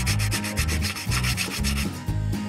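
Crumpled foil scrubs rust off a cast iron camp oven in fast, rhythmic back-and-forth strokes, a loud close-up gritty rasp with a regular beat of about four strokes per second.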